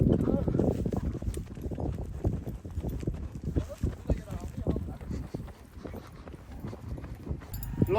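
Horses on a long ride produce steady, close clip-clopping hooves in a continuous rhythm, with people talking over the hoofbeats.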